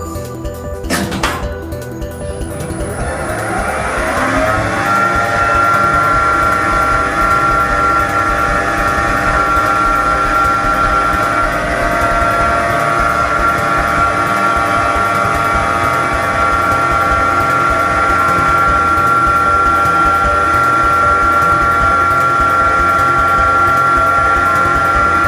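An original Wadsworth-era lift motor starts after a brief clunk and then hums steadily with a sustained tonal whine, loud and close, running on without voices.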